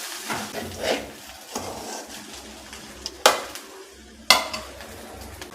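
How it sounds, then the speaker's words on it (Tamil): Coconut rice being stirred in a pan over low gas: a spoon scrapes and scoops in irregular strokes with a soft sizzle beneath, punctuated by two sharp clinks against the pan, close and moderately loud. "கேஸை ஸ்லோவாக வச்சுட்டு நம்ம நல்லா கிளறிக்கலாம்."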